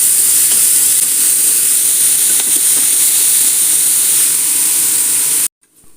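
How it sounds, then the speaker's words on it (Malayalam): Two finely chopped onions sauté in a hot pan with a loud, steady sizzle and hiss, close and constant, before the sound cuts off abruptly near the end. "2 സവാള പൊടിയായി അരിഞ്ഞതിട്ട് കൊടുക്കുക. നന്നായി അതൊന്ന് വാട്ടിയെടുക്കാം."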